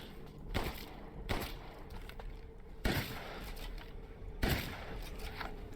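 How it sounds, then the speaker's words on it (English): Shotgun blasts in Resident Evil Village, four heavy booming shots spaced over several seconds against a rumbling background of game noise. "there's about 3 to 4 shots with the shotgun, a full round of bullets, and 2 pipe bombs"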